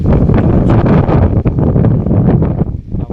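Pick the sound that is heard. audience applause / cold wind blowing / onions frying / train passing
cold wind blowing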